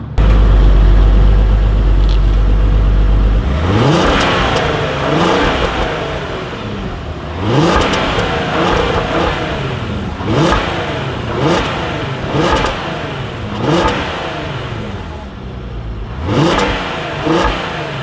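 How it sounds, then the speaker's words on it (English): A 2018 Volkswagen Passat GT with a VR6 engine revs loudly up close. Its exhaust rises and falls through a string of sharp blips, each climbing in pitch and then dropping back, with no one talking. "Speaking of exhaust note, let's see if it does have the same exhaust note."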